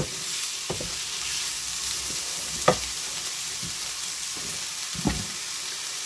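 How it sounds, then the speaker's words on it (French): Chopped onions sauté in a hot pan for an Asian-style dish, giving a steady close sizzle with occasional sharp clicks of a utensil stirring against the pan, and no voices. "Donc là, vous faites revenir vos oignons."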